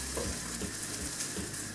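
Ham fries in oil in a pan, giving a constant close, bright sizzle with a few soft stirring knocks underneath.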